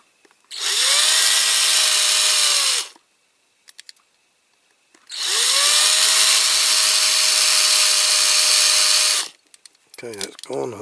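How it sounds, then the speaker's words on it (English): Power drill boring into a die-cast Corgi Mercedes-Benz Unimog 406 toy during restoration, two sustained loud whining bursts of about two and four seconds separated by a pause, with small clicks and handling noise between. "So I'm wondering if I should drill it out from the top"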